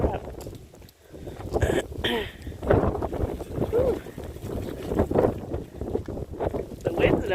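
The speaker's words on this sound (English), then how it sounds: "The wind's no joke, I'll tell you that." Strong gusts from an atmospheric river storm buffet the microphone outdoors at a campsite, loud irregular roaring and rumbling that swells and drops, with voices talking underneath.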